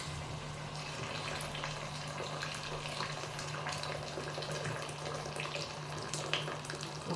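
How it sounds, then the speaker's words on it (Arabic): Hot water is poured into a pan of frying chicken and chickpeas, producing a faint, steady rushing and sizzling wash with a low hum beneath, continuous throughout. "ونمرقو بالماء سخون"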